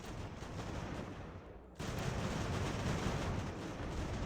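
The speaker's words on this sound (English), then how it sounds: "we've got artillery firing down on us, a whole lot of artillery" Artillery fire in the strategy game Ultimate General: American Revolution, a steady rumbling barrage of cannon blasts that swells louder partway through and keeps rolling without a break.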